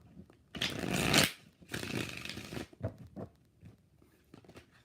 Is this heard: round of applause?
no